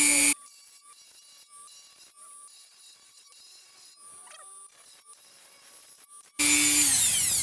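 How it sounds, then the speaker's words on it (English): A Dremel rotary tool fitted with a small grinder accessory works a metal brake part for a 1996–2002 Toyota 4Runner, with a loud whining grind at the start, a long quiet stretch, then the grinding roaring back. "I'm just going to take the little grinder accessory on the Dremel and grind that away a little bit"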